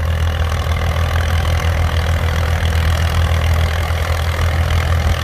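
A tractor engine idles at a steam and traction rally, a loud, steady low throb that runs without a break, close by and with no talk over it.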